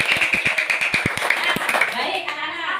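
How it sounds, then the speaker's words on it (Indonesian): Applause in a classroom for a group that has just presented, with quick uneven claps under a busy layer of children's voices, fairly close and fading into chatter toward the end. "Ya, kita berikan tepuk tangan untuk"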